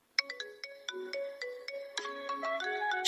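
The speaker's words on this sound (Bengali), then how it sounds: "অবশেষে আমার নামে রিংটনটা তৈরি হয়ে গেছে" A bright melodic electronic ringtone plays a rhythmic chime pattern of repeated notes, clear and close, with a changing phrase partway through.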